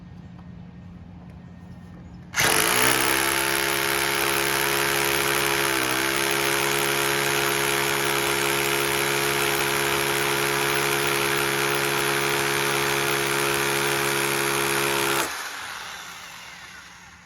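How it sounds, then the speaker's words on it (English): A hammer drill with a 5/16-inch bit roars steadily into brick for about thirteen seconds, loud and close, with a rough pounding buzz, then cuts off abruptly. "how well they compare when it comes to drilling in brick or concrete"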